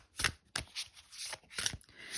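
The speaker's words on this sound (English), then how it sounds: "And I'm gonna shuffle." A deck of tarot cards is shuffled close up, giving several quick riffling bursts with short pauses between them, quiet and with no talking.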